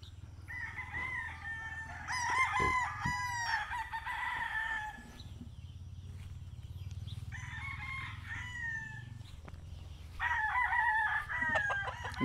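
A young bulik rooster about five months old crows repeatedly, three or four drawn-out calls close by, with faint clucking and rustling of other fowl in between.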